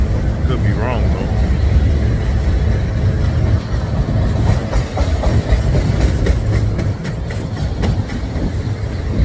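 A Norfolk Southern freight train rumbles past on the main line with steady low rail noise and faint clicking of wheels, loud and continuous throughout, while people talk over it.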